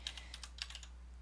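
Quick keystrokes on a computer keyboard, about a dozen light clicks in a brief irregular burst, close and soft over a low steady electrical hum.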